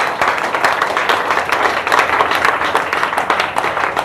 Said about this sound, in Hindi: इसके लिए जबरदस्त ताली होनी चाहिए